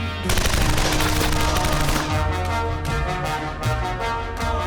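Rapid automatic gunfire rattles in a dense burst, loud and close, with sharp cracks continuing throughout.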